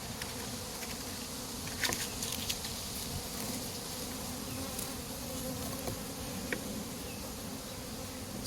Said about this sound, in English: I have this swarm of bees that we captured on this branch here